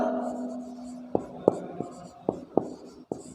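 Chalk or marker tapping and scraping on a board as an example is written out during a Sanskrit grammar lesson, with six or seven short, distinct strokes over a low hum in a quiet room.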